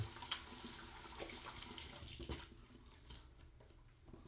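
Tap water runs at a sink to wet the face before a shave with a vintage GEM Damaskeene razor and Williams soap, a faint, steady hiss with a few small splashes and drips, heard alone.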